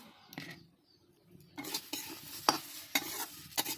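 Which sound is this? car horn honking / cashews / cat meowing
cashews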